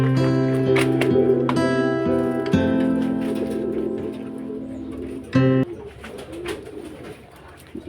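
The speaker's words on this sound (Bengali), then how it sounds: "সকালবেলা পাখিগুলো আর খেতে দিয়ে দিচ্ছি।" Pet birds coo in a home during morning feeding, giving soft, repeated, fairly close calls with no one talking, then a brief clatter and a quieter stretch at the end.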